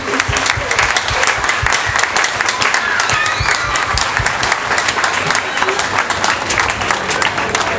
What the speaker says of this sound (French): Je vais vous demander d'applaudir nos grandes sœurs, les Dames de Cœur